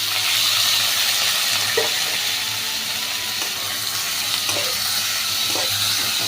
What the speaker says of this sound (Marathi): आता लसूण छानपैकी तळला आहे यामध्ये कांदा टाकून घेऊया